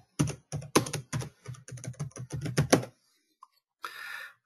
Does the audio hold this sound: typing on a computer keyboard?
yes